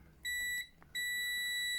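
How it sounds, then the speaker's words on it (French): Two electronic beeps from a continuity tester on a microwave safety switch, a short one followed by a gap and then a longer sustained tone, high-pitched and steady. "Donc vous le testez, il bip, normal."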